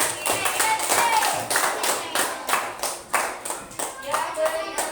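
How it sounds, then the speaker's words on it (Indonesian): A group of people at a teacher training session in Indonesia clap their hands together in a lively burst of applause, a few seconds of steady, overlapping claps. "Tepuk tangan untuk kelompok 5"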